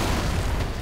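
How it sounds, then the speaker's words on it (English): A deep, rumbling boom fills the moment, a close and heavy explosion with a low roar, from the video game Left 4 Dead 2. "That was an explosion."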